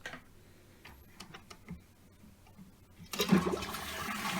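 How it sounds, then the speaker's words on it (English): A dual push-button toilet cistern flushes: a few quiet ticks and clicks, then a sudden loud rush of water that starts about three seconds in and keeps going to the end, close by. "I'm just going to let it fill up, and then I'm just going to flush it once"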